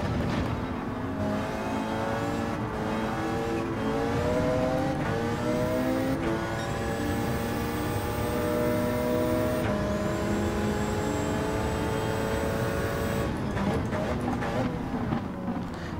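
A Porsche 919 Hybrid '16 race car at Watkins Glen in Gran Turismo 7 howls steadily under load, its engine pitch climbing through gears with short dips at each shift, loud and continuous throughout.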